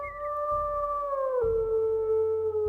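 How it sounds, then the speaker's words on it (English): A wolf howls in the WolfQuest video game, a single long, clear, steadily falling tone up close, loud and alone with no talk over it. "Let's howl."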